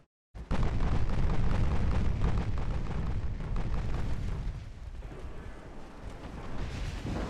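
Naval shellfire in the warship game Ultimate Admiral Dreadnoughts: a dense, continuous barrage of booming gun blasts and shell impacts that roars loudly for several seconds, then eases slightly without stopping.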